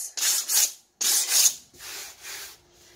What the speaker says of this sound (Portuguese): passa a lixa bem de levinho, só pra alisar um pouco mais